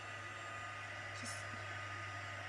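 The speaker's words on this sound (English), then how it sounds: "when you use the heat tool to dry" A crafting heat tool blows hot air to dry ink on a card, giving a steady, even whooshing hum with a low drone, close and constant throughout.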